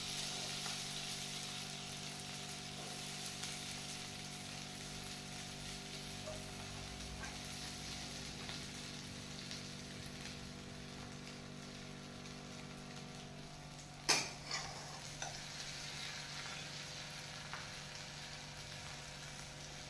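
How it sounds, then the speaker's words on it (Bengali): Red potato pitha fry in butter with a soft, continuous sizzle and a low steady hum. Near the end comes a sharp clatter followed by a few lighter knocks. No one speaks. "এরকম করে তৈরি করে বাটারের মধ্যে দিয়ে আমি এগুলো ভেজে নেব।"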